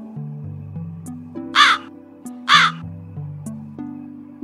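A crow caws twice, harsh and loud, in two short bursts about a second apart, set over a simple stepping melody from a children's Urdu alphabet song.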